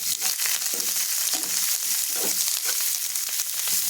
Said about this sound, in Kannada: ಸ್ವಲ್ಪ ಈರುಳ್ಳಿನೂ ಚೆಂದ ಫ್ರೈ ಆಗಬೇಕು